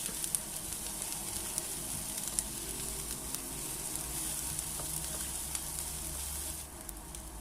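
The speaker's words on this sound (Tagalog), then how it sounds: "igisa lamang po natin ito sa hanggang sa lumabas ang aroma ng sibuyas at bawang" Chopped onion and garlic sautéing in a pan for a siopao filling, a steady soft sizzle throughout with faint scrapes of stirring, no voices over it.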